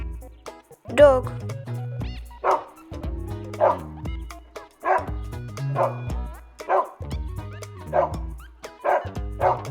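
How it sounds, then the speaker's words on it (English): A dog barks and yips in a series of short, close calls, with a whimpering tone at times, over a rhythmic musical backing. "Dog."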